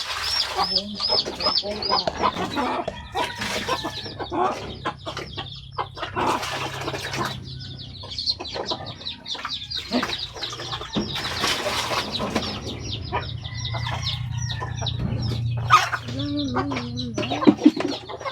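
Chickens cluck and squawk busily nearby amid a noisy farmyard, with overlapping calls, occasional wing flapping, and people talking in the background.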